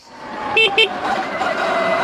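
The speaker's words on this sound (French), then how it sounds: "Klaxon de fou en plus, hein." Car horn honking loudly on a road in the Calanques near Marseille, two quick blasts in a row over a steady rumble of traffic or motor noise.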